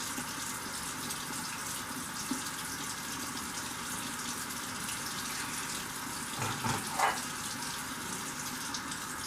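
Running tap water in a bathroom sink wetting a scrub brush: a steady hiss of flowing water throughout, with a brief splashing change as the brush goes under the stream.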